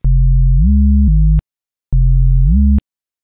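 Pure sine wave tones from Serum synthesizer oscillators, two loud sustained low notes each sliding upward in pitch before cutting off, separated by a short silence.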